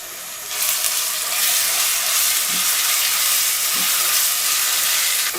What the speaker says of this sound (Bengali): আদা ও রসুনের কাঁচা গন্ধটা চলে যাওয়া পর্যন্ত এগুলোকে আমি একটু ভেজে নিলাম।